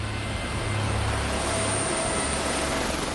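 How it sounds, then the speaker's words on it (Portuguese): A steady, loud engine drone with a low rotor-like thrum holds throughout from a helicopter running nearby during a special forces training exercise, with no voices. "Os homens desembarcam às pressas do helicóptero."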